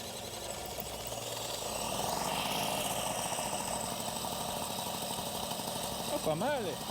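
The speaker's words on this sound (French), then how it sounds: "Allez, premier démarrage à froid de la journée." A moped engine makes its first cold start of the day in cold northern conditions. It settles into a steady, rough, close putter that runs throughout and swells slightly midway.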